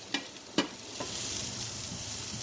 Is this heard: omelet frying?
yes